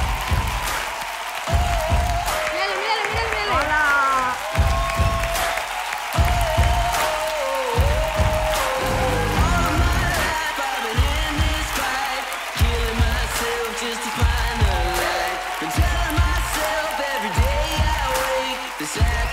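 Audience applauds and cheers for an impersonator at a Got Talent audition, with dense, steady clapping and crowd noise running loud throughout, while a rhythmic music backing and some voices mix in.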